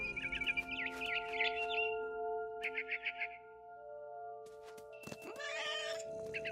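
A cat meows a few times in an indie video game, short tonal calls over a steady synthetic music drone, with some chirpy bird-like sounds mixed in.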